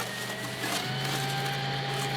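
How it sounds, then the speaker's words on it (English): A generator running just outside a window, a steady droning engine hum with a constant low tone that holds at an even level throughout. "I'm thinking he's running the generator."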